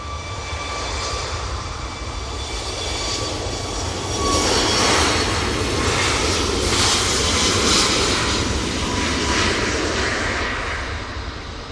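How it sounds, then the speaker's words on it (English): Ryanair Boeing 737 MAX 8 jet taking off from Manchester Airport, its engine roar building and swelling louder midway through, with whining tonal engine hums over the steady thrust noise. "That Ryanair 737 MAX 8 is off to Bratislava."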